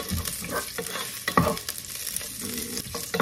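Ginger sautéing in olive oil, a close, busy sizzle with scraping stirs and occasional knocks of a utensil against the pan, continuous and without talk.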